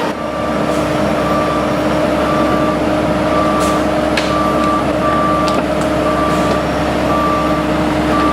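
A dump truck hauling rock rolls in with its reversing alarm beeping steadily at an even pace over a loud, constant engine rumble. Brief hisses and clanks break in now and then.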